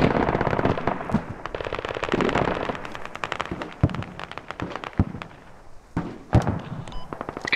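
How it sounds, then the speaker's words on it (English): A rocket barrage and artillery fire in the military shooter Squad land as rapid clusters of sharp blasts and cracks, loud and dense at first, then thinning into scattered booms and pops. "They might use the rocket barrage or whatever they get fire mission"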